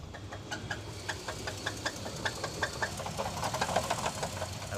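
Failing rod bearing in a Dodge Duster engine, a loud, steady metallic knocking that repeats in quick rhythm over the running motor, close up and alone.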